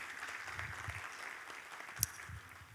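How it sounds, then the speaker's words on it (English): Forum attendees at the Africa Emerging Markets Forum give a faint, distant round of applause for the organizing institutions, a soft continuous patter with one brief louder knock near the end. "Please, a round of applause for them."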